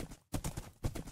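Horse hooves galloping in Minecraft survival mode, heard as a few rhythmic thudding clip-clop beats with a short gap between bursts, close and moderately loud with no talking.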